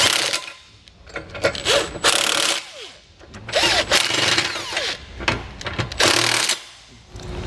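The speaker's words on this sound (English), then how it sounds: "I'm gonna go ahead and snug them up using an impact" An impact wrench with a 19 mm socket drives trailer hitch bolts on a 2020 GMC Terrain. It fires in loud, close, repeated rattling bursts of a second or so, with short pauses between them.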